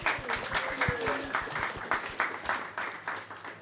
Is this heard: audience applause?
yes